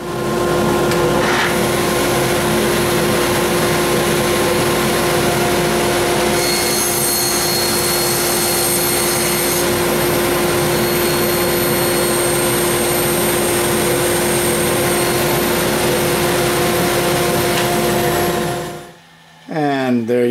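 A power saw cuts a corner off a clamped wooden template, a loud, steady motor whine and cutting roar lasting many seconds before the blade winds down and stops.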